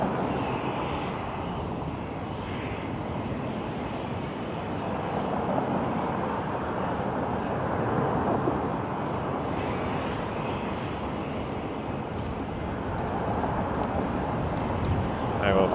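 A Cessna 560 XL Citation business jet at Toronto Pearson Airport: a broad, steady engine roar and rumble sustained throughout, fairly distant and even, with a voice speaking over it.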